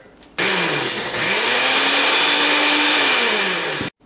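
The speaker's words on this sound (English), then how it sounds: "We'll whack this with the blender." A kitchen blender whirs loudly through tomato sauce for about three and a half seconds, spinning up, holding a steady high whine, then cutting off abruptly.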